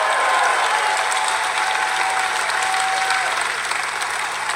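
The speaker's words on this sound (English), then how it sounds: "Give them a big round of applause." Dense, sustained crowd applause fills a political rally hall, loud and even from start to finish, with no voice rising above the clapping.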